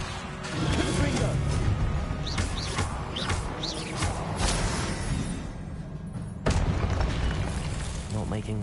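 Confringo blasting spell in Hogwarts Legacy, producing booming explosive bursts with crackling debris over a busy game soundscape, with bird-like chirps and a voice speaking at times.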